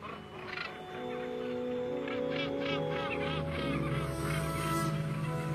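Northern gannets calling in a breeding colony, a dense chorus of harsh, overlapping cries rising over a steady din of many birds, close and fairly loud throughout.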